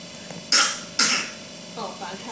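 Two loud, abrupt coughs close to the microphone, about half a second apart, followed by softer throat noise and breathing.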